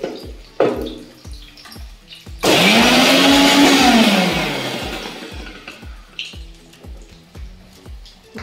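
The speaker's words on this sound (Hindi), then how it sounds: "तो फ्रेंड जब तक मेरा पनीर फ्राई हो रहा है तब तक हम प्याज को पीस लेते हैं। बिना पानी डाले हुए ही प्याज को पीसना है।" An electric kitchen mixer grinding onions with no water added: a few clicks and taps, then a loud whirring burst of about two seconds that slowly winds down, followed by more taps as the jar is handled.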